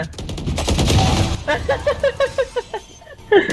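Gunfire in Valorant: a rapid burst of about eight evenly spaced shots in a clipped rhythm, loud and close, after a stretch of game noise, with one more shot at the end.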